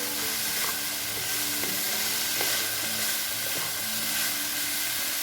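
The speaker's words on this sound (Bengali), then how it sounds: "এখন এই ব্রোকলিটাও ঢেলে দেবো ওর মধ্যে, দিয়ে আবার একটু মিক্স করে দেবো।" Broccoli and other vegetables stir-frying over a high flame in a frying pan for a vegetable salad, a steady close sizzle and hiss with occasional light clinks and no voices.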